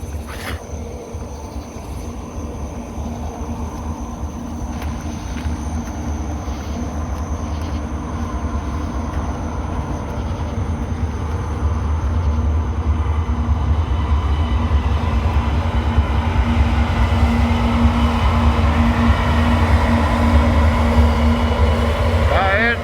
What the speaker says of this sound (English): I hear a train. He's coming down the hill,